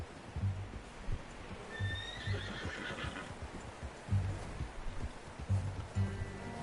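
A horse in Red Dead Redemption 2 whinnies twice in rising, squealing calls over steady hoof clops and a low outdoor ambience, fairly close and clear.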